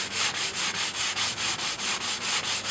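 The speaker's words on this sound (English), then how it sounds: "I'm going to take my 150 grit sandpaper and just finish the process" Hand sanding of a floor repair with 150 grit sandpaper, a steady rhythmic rasping in about a dozen even back-and-forth strokes, close and continuous.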